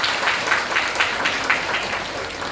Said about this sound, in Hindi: मितानिन दीदी मन जो पहाड़ी क्षेत्र में काम करती उनका ताली बजा के स्वागत कर